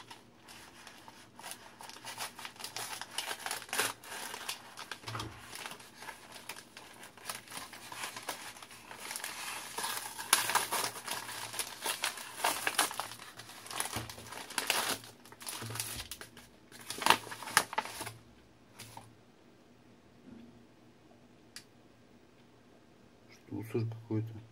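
Packaging of a parcel from China holding a 5-metre LED strip crinkles and rustles as it is torn open, continuous close handling noise with plastic crackle, pausing briefly near the end.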